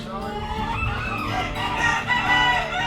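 Chickens at a poultry show crow and cluck over one another, a dense, loud chorus of overlapping calls from several birds nearby.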